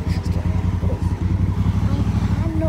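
Honda Africa Twin motorcycle engine running steadily at a low, throbbing idle, close and fairly loud, with a voice talking over it.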